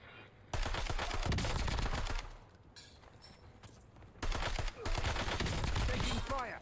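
Gunfire in the Call of Duty video game map Rebirth Island, rapid automatic bursts that rattle loudly and close, stop for a couple of seconds of quieter background, then resume in a second sustained burst.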